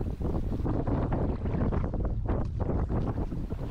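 Strong wind gusts buffet the microphone on a river during a kayak trip on the Lemva, a loud, ragged roar of rushing air that swells and fades, with no voices.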